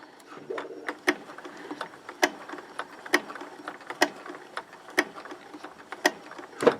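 A sewing machine stitches slowly around the edge of a fusible appliqué, giving a close, irregular series of sharp mechanical ticks and clicks roughly twice per second over a faint hum.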